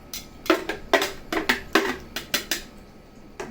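Raw meat being mixed with marinade in a bowl, a run of sharp clinks and knocks from utensil against the bowl, roughly a dozen close, irregular hits with no talking.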